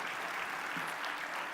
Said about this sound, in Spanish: Denle un aplauso de bienvenida